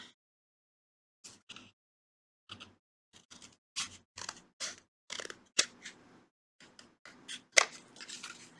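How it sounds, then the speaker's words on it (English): Scissors cut through fabric in short, crisp snips, first sparse and quiet, then quicker clusters of close, sharp clicks with brief gaps between them, and no talking. "scissors to cut some fabric"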